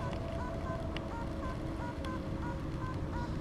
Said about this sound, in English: I'm going to show you what it's ringing, this Fisher F70, so everybody gets an idea.